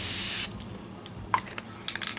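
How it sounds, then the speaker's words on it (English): A Rust-Oleum 2X clear gloss spray can gives one short, steady hissing burst up close, followed by quiet handling taps and small clicks. "and then a light spray"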